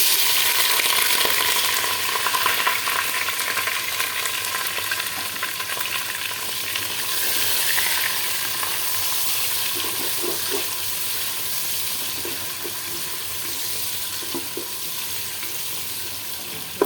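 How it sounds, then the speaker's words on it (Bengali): Food fries in hot ghee for biryani, giving a steady, dense sizzle and crackle throughout, loud and close, with occasional stirring scrapes and no talking. "আমি এগুলো সুন্দর করে করবো, ভাজি করবো, বাদামি কালার করবো"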